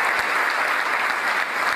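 An audience at a public event at a free hospital in Chhattisgarh claps in steady, even applause that stays at one level for a brief moment.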